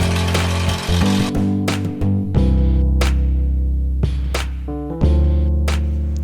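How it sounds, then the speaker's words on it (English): A buffing wheel polishes a puukko knife blade, its motor humming steadily and loudly while the pitch shifts and drops as the blade is pressed against the spinning wheel. "Then I use my buffing wheel to give it a nice polish."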